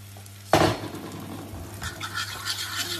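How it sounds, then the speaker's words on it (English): Beaten egg hits a hot pan for an omelette with a sudden loud hiss, then settles into a steady close sizzle with light scraping as it begins to cook. "let's put the egg in the pan"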